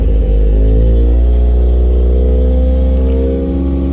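A Mazda RX-7 FD's rotary engine idles loud and close just after the clutch is let out, holding a steady, rich droning note with slight wavering and no speech over it.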